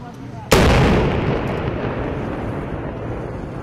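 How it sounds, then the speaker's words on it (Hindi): A loud, sudden blast as security forces destroy an IED beside a national highway in Nowgam, Srinagar, followed by a long rumbling decay, with a voice faintly audible underneath. "तो देखा आपने, दरअसल ये कितना जोरदार धमाका था।"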